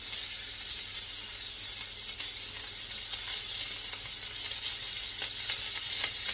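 Italian sausage browning in a soup pot gives a steady, close sizzle and frying hiss with faint stirring scrapes, continuous and even throughout, with no voices.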